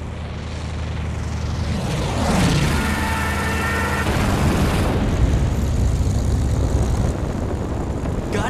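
Propeller fighter planes roar in from a distance in the Battlestations Midway video game, a loud droning engine swell that rises, sweeps past with a sharp pitch change, then gives way to rumbling blasts and a sustained noisy wash.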